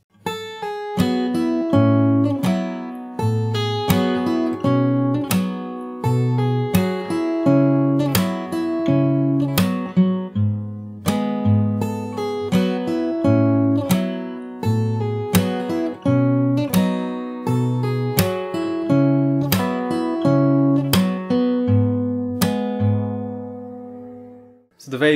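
Fingerstyle acoustic guitar playing the bridge of a song, with plucked low notes under ringing chord strums in a steady slow pulse, close and clear, tapering off near the end.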